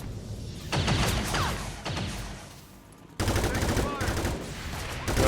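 Gunfire from XCOM 2 comes as heavy bursts of rapid shots with rattling impacts, loud and close. A sudden fresh volley follows a short lull.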